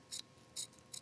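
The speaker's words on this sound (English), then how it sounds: "The reason I fold this way is because my scissors can glide right along that edge" Scissors trim excess fabric along a folded hem edge of a wrap dress, giving three quick, crisp snips evenly spaced within a second, close and clear with no talking.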